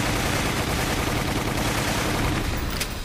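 Dense continuous gunfire from Resident Evil: The Umbrella Chronicles, a loud unbroken barrage of rapid shots filling the whole stretch with no pauses.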